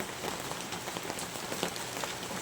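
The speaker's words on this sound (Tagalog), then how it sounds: "ang lakas ng ulan" Heavy rain pattering on a plastic cover over a cat cage, a dense continuous wash of drops with sharper individual taps scattered through, fairly faint and steady.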